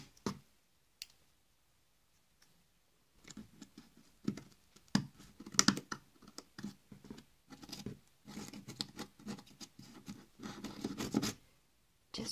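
Small manicure scissors snip and scrape through carton for a homemade puppet theatre, quiet at first, then a run of close, irregular cutting and scratching sounds.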